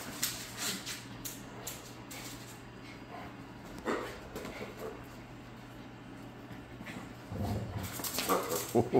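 Faint whimpers and small yips from young dogs come and go, mixed with soft rustling and a person's quiet voice in the background.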